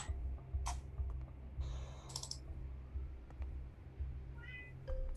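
A cat meows several times in a room, short faint cries mixed with keyboard typing and clicking, over a low steady background hum.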